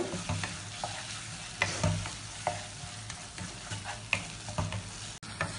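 Coriander and mint leaves sautéed in a pan for plain kuska biryani, a continuous close sizzle broken by repeated spatula scrapes and stirring knocks, with no voices over it.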